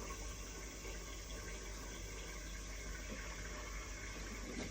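Japanese washing machine draining dirty water, a steady, faint rushing and gurgling flow that continues evenly throughout with no talking.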